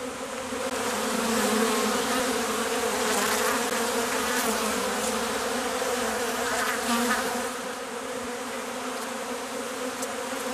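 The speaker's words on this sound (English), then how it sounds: "Together with their young queen, the bees seek a resting place, even if it's not an ideal one." A honey bee swarm with its young queen, searching for a resting place, fills the air with a dense, steady buzz of countless wings, close and continuous throughout.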